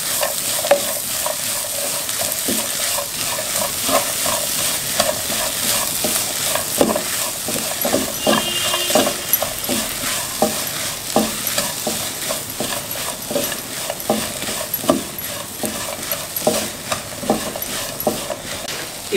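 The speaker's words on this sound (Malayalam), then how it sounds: "ഇപ്പം ഉള്ളിയെല്ലാം നന്നായി മിക്സ് ചെയ്തിട്ടുണ്ട്." Onions being stirred and sautéed in a pan for Kerala chicken thoran, a steady sizzle under repeated scraping strokes of a spoon, close and continuous with no talk.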